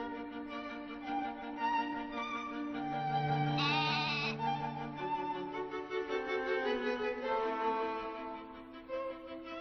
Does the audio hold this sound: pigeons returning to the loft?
no